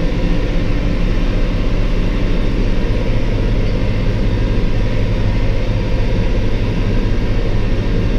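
Massey Ferguson tractor engine running steadily while mowing a sloped field, a loud continuous low drone with even mechanical throb and no talk.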